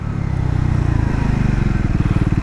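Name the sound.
Scrambler motorcycle braking from 80 km/h, rear brake test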